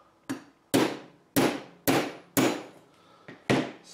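A hammer strikes the shaft of an NTM Propdrive brushless motor in six sharp metallic blows at a steady, roughly half-second pace, each ringing briefly, close and clear without speech.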